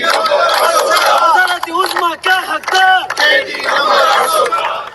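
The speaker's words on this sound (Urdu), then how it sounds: "یہ خیبر پختونخوا وزیر اعلیٰ ہاؤس میں وہاں پر نعرے لگے ہیں" A loud crowd chants political slogans in rhythmic unison at the Khyber Pakhtunkhwa Chief Minister's House, with the chant breaking into short repeated call-and-response bursts.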